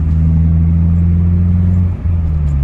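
A BMW E30 with a modified exhaust drones with a deep, steady low engine tone during a drive, loud and close, with a brief dip near the end before the rumble resumes.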